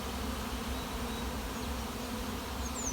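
Honeybee swarm buzzing in a yard after leaving the hive, a dense steady hum of many insects, continuous and moderately faint without pauses.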